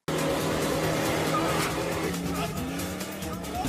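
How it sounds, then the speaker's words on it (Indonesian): Race cars skid and squeal their tyres during a film race, a loud continuous roar of engines with tyre screech and no pauses throughout. "Rusty selalu menghadang mobil Raj dengan licik"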